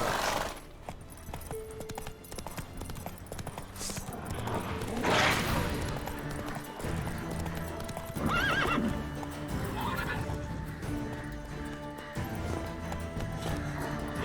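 Roach, the horse in The Witcher 3, gallops with quick, rhythmic hoofbeats and lets out loud, close whinnies, with clashing game sounds and brief crashes mixed in.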